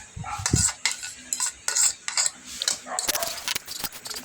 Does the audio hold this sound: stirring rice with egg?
yes